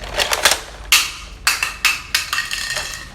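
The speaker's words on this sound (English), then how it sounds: "That is the sound of the shell being ejected." Several sharp plastic clicks and clacks as a shell is ejected from a Nerf Trilogy DS-15 toy shotgun, in quick irregular succession, close and fairly loud, with no talking.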